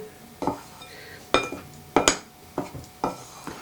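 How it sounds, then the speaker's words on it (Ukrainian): Dry ingredients such as flour, baking soda and salt are stirred in a bowl with a utensil, giving sharp scraping knocks against the bowl in a loose, uneven rhythm, close and fairly loud. "І оце обов'язково змішую сипучі."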